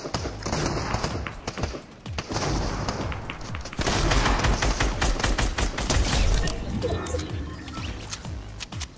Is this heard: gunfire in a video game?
yes